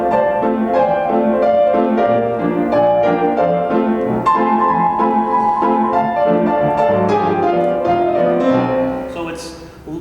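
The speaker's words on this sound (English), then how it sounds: "if I was going to play Kentucky Home in a stride piano style, it might sound like this" Stride piano playing of "Kentucky Home", lively and bouncy, with a steady left-hand pulse under busy melody notes, played alone and fading at the end.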